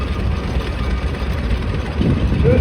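A two-cylinder antique heavy tractor engine runs steadily at a tractor show parade, a loud, dense low rumble that holds constant and swells slightly near the end.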